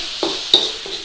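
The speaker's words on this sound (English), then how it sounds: "So give that a stir." Keema matar curry with garam masala being stirred in a pan makes three brief scraping strokes against a soft, continuous sizzle.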